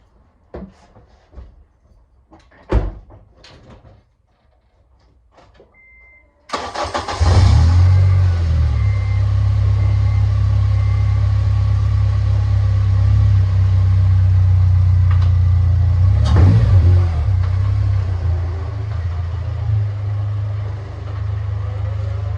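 A warmed-up 2009 Honda Civic Si FA5 sedan starts up after a few clicks and thumps, then idles with a loud, steady engine drone while backing out of a garage, with a brief rev near the end.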